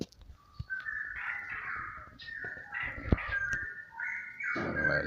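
Caged straw-headed bulbuls, known locally as cocak rowo, sing outdoors in the sun. Their rich, warbling phrases come in several bursts of moderate loudness over faint background noise, with a few sharp knocks in between.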